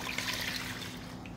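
About four cups of water poured into a pot for packet mix on a stove, a soft continuous trickle and splash, fairly faint and steady throughout.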